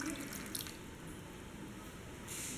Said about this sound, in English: To this add required water